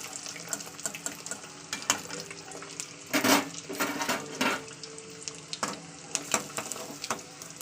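Steady sizzling crackle of eggs frying in a pan, with scattered clicks and a louder scraping burst midway. No voices.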